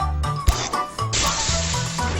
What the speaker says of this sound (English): No one like the bluebird when it comes to the glass.